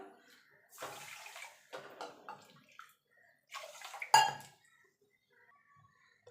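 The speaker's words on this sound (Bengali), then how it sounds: "আমি চিনি আর জল দিয়ে দিয়েছি" Water poured onto 250 grams of sugar in a cooking pot for sugar syrup, arriving as several short, close splashing bursts with a sharper metallic clink near the end, then near silence.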